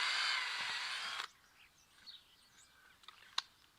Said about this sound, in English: I'm just popping a pilot hole through where the fixing is going to go.